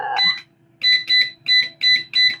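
An air fryer timer being set gives a run of crisp electronic beeps: one opening chirp, a short pause, then five evenly spaced loud tones in a steady rhythm, with no voices over them.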